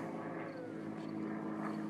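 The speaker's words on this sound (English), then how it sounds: "Oh, I hear an airplane." A propeller airplane flying overhead near a backyard tire swing, its steady droning hum continuous and moderately distant, with no talking.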